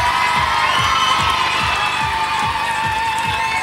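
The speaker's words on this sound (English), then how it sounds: "Give them a cheer." A game-show studio audience cheers and shouts in a loud, continuous wash of voices, with rhythmic clapping or stomping pulses running underneath throughout.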